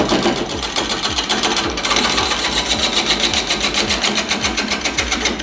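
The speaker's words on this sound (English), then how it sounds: "I'm just going to finish it off with a scraper" A scraper finishes a wooden bowl on a lathe, giving a loud steady mechanical drone with a fast regular ticking chatter throughout.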